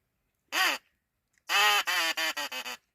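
A duck call device blown to imitate a duck: one short quack, a pause, then a longer quack followed by a quick run of four or five nasal quacks, close and clear with no talk.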